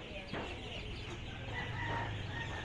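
Five-day-old ducklings, about 150 of them on a duck farm, chirp and peep in a steady crowd of small calls close by.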